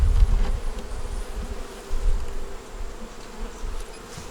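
Honeybees buzz densely around an open hive, a continuous close swarm drone with no talking.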